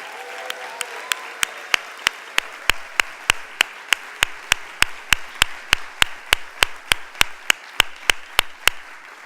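At a college fall convocation, an audience applauds campus services and public safety teams: a soft wash of clapping under a sharp, evenly spaced series of loud single claps, like one person clapping near the microphone throughout.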